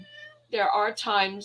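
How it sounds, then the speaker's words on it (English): A pet cat meows twice in quick succession near the microphone while a person speaks during a casual podcast-style conversation. "my cat is co-hosting apparently"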